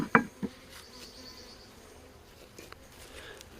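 Honey bees buzz softly and continuously at an opened hive while honey supers are being returned, with a couple of sharp knocks near the start.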